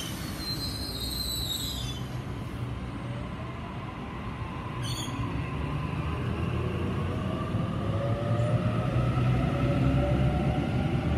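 A Sydney suburban train departs Padstow station with a steady rolling rumble that builds as it gathers speed, and a brief high chirp cuts in midway, all heard from close by on the platform.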